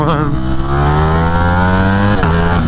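A Ducati Streetfighter V4 motorcycle engine revs loudly and close while riding, rising steadily in pitch with a rich harmonic drone, then briefly dips and climbs again near the end.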